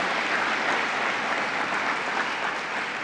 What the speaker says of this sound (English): Let's give a round of applause to Steve DeMaio